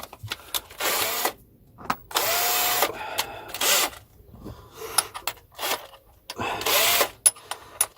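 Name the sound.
drilling a cigar box guitar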